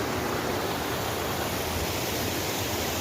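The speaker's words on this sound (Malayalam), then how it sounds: "ഇതാണ് പള്ളിക്കൽ പുഴ എന്നൊക്കെ അറിയപ്പെടുന്ന ഒരു പുഴയാണ്" A steady, full rush of water from the Pallikkal river, a dangerous stretch, flows continuously and evenly close by with no voices.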